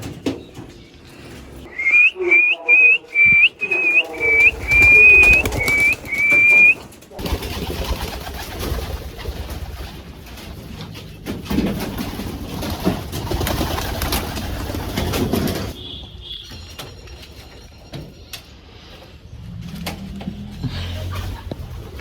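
Pigeons kept in a loft, including a black Lahori chick, call before being fed with wheat: a quick run of loud, repeated whistled notes up close, then rustling and shuffling noise with scattered faint calls.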